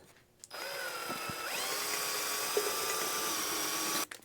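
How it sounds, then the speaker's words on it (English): A power drill whirs up during an oil change on a Massey Ferguson 35 tractor, a high steady whine that starts abruptly, climbs in pitch, runs evenly for several seconds, then stops. "where's my drill?"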